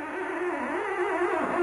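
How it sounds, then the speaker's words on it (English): Pinstripe brush dragged under finger tension across a car hood, giving a continuous thin squeak that wavers in pitch for about a second and a half, close and steady. "the noise you hear is the tension from my finger on the surface of the hood"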